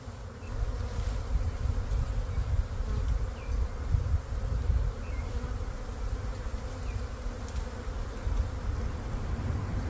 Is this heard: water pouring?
no